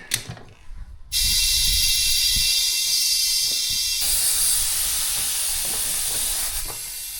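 Air rushes into a four-wheeler (ATV) tire in a backyard: after a brief clatter, a loud, steady, close hiss starts abruptly and holds unbroken for several seconds, easing slightly near the end.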